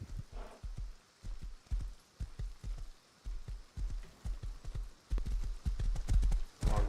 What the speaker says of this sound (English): I hear a horsey.